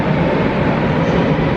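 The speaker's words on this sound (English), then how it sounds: "there goes a Czech train just leaving" A Czech train pulls away from a platform at Prague's main railway station, a loud, close, steady rolling rumble throughout the short stretch.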